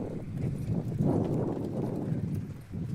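Harness racing horses, a field of three-year-old filly pacers, trot in the post parade at a county fair track, with steady close hoof clip-clop and hoofbeats continuing over a bed of outdoor crowd and track noise.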